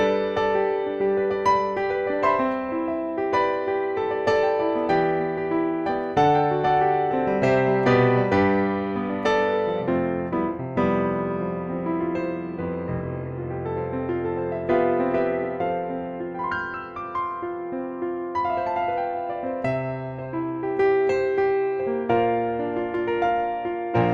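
Pianoteq 5 modelled grand piano K2 with a three-microphone preset plays a flowing passage of rich sustained chords and melodic runs, full and resonant, with no talking.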